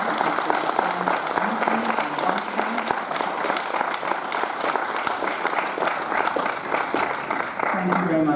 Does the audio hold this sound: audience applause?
yes